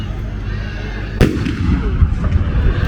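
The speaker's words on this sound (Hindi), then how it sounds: "गोलाबारी जारी है इन धमाकों के बीच।" Explosions and firing during an army helicopter demonstration in Jaipur with Dhruv, Rudra and Chetak helicopters: one sharp, loud blast cracks out midway over a steady low rumble of engines and distant activity.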